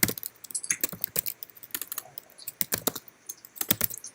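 Bursts of quick keystrokes on a computer keyboard in a meeting room, close-miked and crisp, with brief gaps between runs of clicks and no voices.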